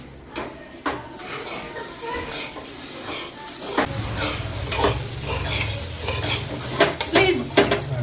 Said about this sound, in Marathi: कारण की आम्ही तेलामध्ये टाकून ती जाळली आहे